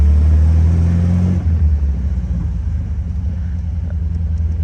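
Engine of a 1967 Porsche 356 Speedster replica pulling through a gear change while driving: a loud, steady low rumble that drops in pitch as the shift happens, then settles into a gruffer, uneven drone.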